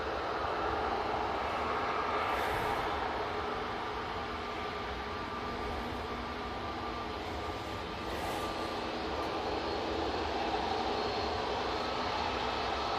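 A Ryanair Boeing 737 MAX taxiing at Manchester Airport gives a steady, distant broadband roar that holds at an even level throughout, with no talk over it.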